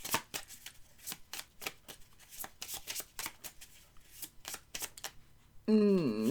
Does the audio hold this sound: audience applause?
no